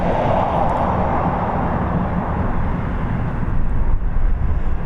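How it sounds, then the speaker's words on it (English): An Emirates Boeing 777 climbs away from Dublin Airport with a loud, steady broadband jet roar that holds constant throughout, no voices over it. "Absolute beauty of an aircraft, that Emirates 777. She's up and away, heading over to Dubai."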